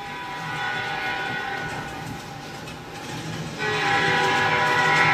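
A train rolls past at moderate distance, a steady rumble with a rising mechanical hum that swells louder near the end, with no voices heard.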